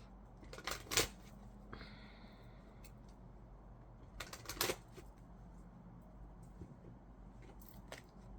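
Wisdom of the Oracle cards being shuffled by hand, with two main bursts of crisp, close riffling and flicking separated by quieter gaps and a few lighter taps, and no talking.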